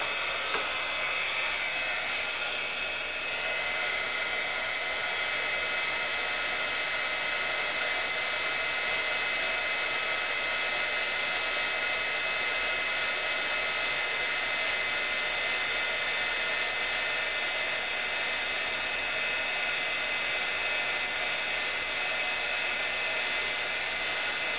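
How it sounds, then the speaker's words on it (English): A craft heat tool blows steadily for the whole stretch, a loud, continuous high-pitched whine and rushing hiss with no pauses and no voices. "I'm going to warm up my heat tool."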